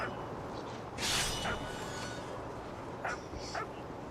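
A dog in the video game What Remains of Edith Finch gives a sharp yelp followed by softer whimpering yips, over steady background game ambience.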